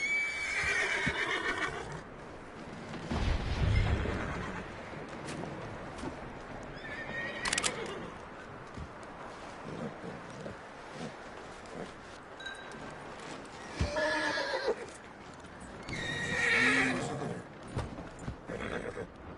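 A horse in the video game Red Dead Redemption 2 whinnies loudly several times, with clip-clopping hooves and shuffling movement between the calls, close by and with no talk.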